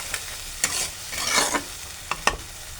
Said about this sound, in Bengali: আরও একবার ভালো করে আমি মশলাটাকে নাড়িয়ে নেব